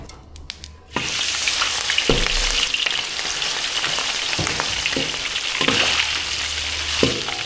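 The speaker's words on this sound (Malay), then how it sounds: "Lepas kita goreng bawang putih dah, kita mai goreng udang pula dah." Shrimp frying in hot oil after garlic, a loud continuous sizzle that starts abruptly after a second of quiet and holds steady, with brief bursts of spattering and stirring, no talk.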